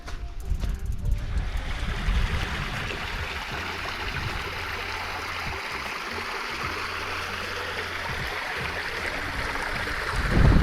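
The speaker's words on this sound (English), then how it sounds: "Got a nice little waterfall and there's loads of big pools all the way down here." Small waterfall on a Baja California Sur stream pours into a series of large rock pools, giving a steady, broad rushing wash with no speech over it.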